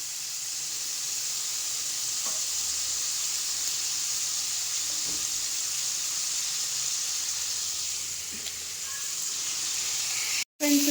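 Mutton gravy masala frying in a pan, a steady close sizzle and hiss running throughout with a few faint scrapes, briefly cutting out near the end.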